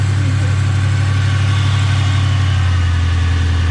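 A Ford Foxbody car engine, recently started after sitting seized for years, idles loudly and close with a constant deep, throbbing rumble and no breaks.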